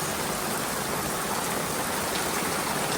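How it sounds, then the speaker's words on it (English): Heavy rain pours steadily outdoors during a Florida camping trip, a dense, constant hiss of falling water close by with no voices over it. "It's pouring outside"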